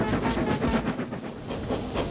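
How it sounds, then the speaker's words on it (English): An express train hauled by a steam engine along the line, a continuous rumbling clatter with faint hiss, steady and moderately loud throughout with no voices. "He thundered along the line, making good time"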